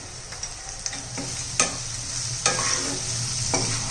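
Kashmiri red chili powder and coriander powder sauté in hot oil for a spicy Bhogi vegetable curry, with a steady sizzle and scraping spoon strokes about once a second, close and alone.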